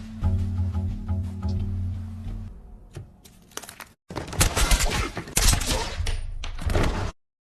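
Gunfire erupts in the action film Jigen Daisuke (2023) as armed men open fire: dense, loud volleys of rapid shots and thuds, following a stretch of low rumbling ambience and ending abruptly in silence.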